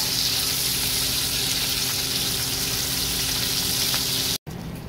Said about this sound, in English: Let's give this bacon a stir here.